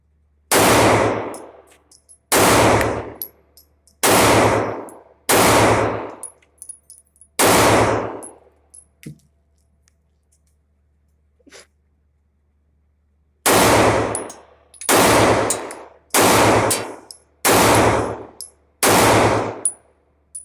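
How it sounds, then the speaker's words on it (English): A SAR USA B6C 9mm compact pistol fires single rounds at 7 yards, each a loud, sharp crack with a short ringing tail. About ten shots come in two groups with a quiet pause between them. "we're going to fire the first rounds out of it and see how it does"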